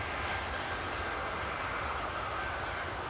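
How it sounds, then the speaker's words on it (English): A Scandinavian airliner taking off from the second runway at Manchester Airport, heard as a steady, broad jet engine roar at some distance, alone and without voices. "Scandinavian taking off on the second runway here at Manchester."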